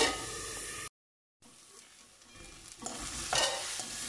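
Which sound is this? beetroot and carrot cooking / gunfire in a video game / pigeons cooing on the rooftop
beetroot and carrot cooking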